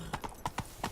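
Horse hooves galloping in The Witcher 3 video game, a quick run of five crisp clip-clop strikes at an even rhythm, fairly faint and heard alone.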